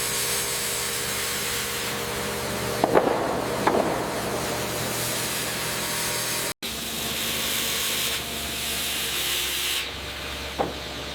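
A saw blade cuts through oak logs and peels off thick slabs in a barrel-making wood factory, giving a steady loud hissing, rasping roar with a few sharper bursts and no talk.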